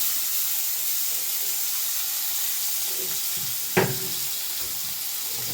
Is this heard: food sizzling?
yes